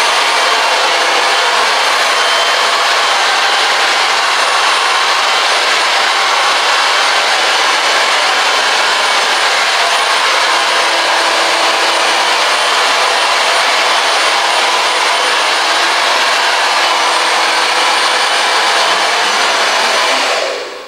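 A hair dryer blows loudly and without a break while freshly cut hair is dried during a barbershop fade haircut lesson. The airy, even roar stays unchanged for about twenty seconds, with no talking.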